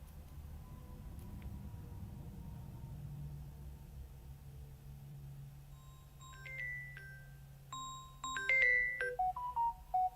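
A phone ringtone sounds during a test call, a short run of bright melodic electronic tones starting quietly and growing louder near the end over a low background hum.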